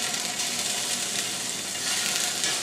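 Scallops seasoned with salt and lime juice hit a hot oiled pan, raising a loud, steady, close-up sizzle with a dense crackling hiss that holds evenly throughout, and no voices over it.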